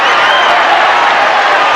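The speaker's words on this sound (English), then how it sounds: "The crowd urging Ken Norton" A boxing arena crowd roars continuously at the Muhammad Ali vs Ken Norton heavyweight title fight, a loud, dense wash of cheering with no distinct voices.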